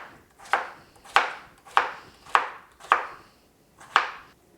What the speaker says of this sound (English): First thing I'm gonna do is peel and dice all these potatoes